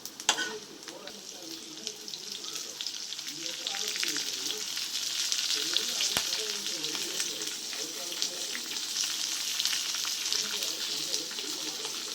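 Beans, curry leaves and coriander sizzle and spatter in hot oil in a pan, a steady broadband frying hiss that swells slightly after the first seconds and holds, close and continuous with no talk.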